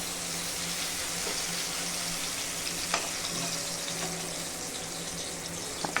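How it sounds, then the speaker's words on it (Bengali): Pointed gourd (potol) frying in oil with salt, a steady close sizzle and crackle throughout with a few sharp pops and faint stirring scrapes. "তো লবণটা দিয়ে একটু ভালো করে ভেজে নেব, যাতে পটলের মধ্যে একটু ভালোভাবে লবণটা যায়।"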